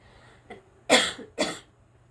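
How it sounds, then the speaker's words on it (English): Two sharp coughs close together, with a softer throat noise just before them, loud and near against a quiet background. "I just coughed into my arm."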